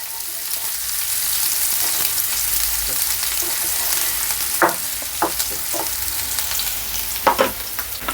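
Thinly chopped half of a medium onion sizzles steadily in oil in a pan, with a continuous hiss, occasional sharper crackles and a few clinks of stirring, and no talking.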